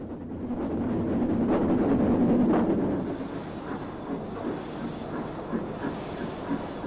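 An Isle of Man Railway steam train climbing out of Douglas with a banker locomotive attached, its working rumble swelling and chuffing at first, then fading into a quieter, rattling roll with wind noise.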